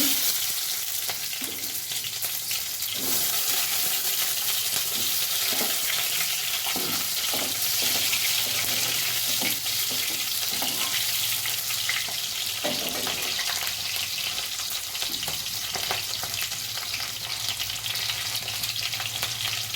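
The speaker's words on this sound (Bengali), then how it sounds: "তেল গরম হয়ে গেছে, আগে পেঁয়াজ দেবো" Onions frying in hot oil for a recipe made with gondhoraj lemon leaves, with dried chilli and turmeric in the pan. The sizzle is steady and close for the full length, and stirring scrapes break through it at intervals. Nobody speaks.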